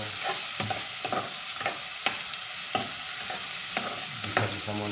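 String beans sizzle steadily in a hot casserole pan while a utensil scrapes through them in regular stirring strokes, roughly twice a second.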